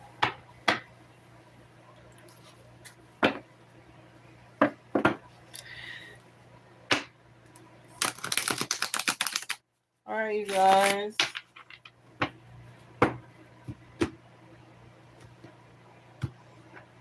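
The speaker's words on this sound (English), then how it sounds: "I could shuffle these decks all night." Brisk riffling of a tarot card deck in two bursts, with soft taps and clicks scattered around them and a brief spoken remark.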